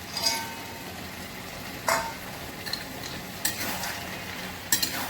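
Quiet sizzling in a pan of fried lentil dumplings with a few scattered scrapes and clinks of a spoon stirring, spaced irregularly.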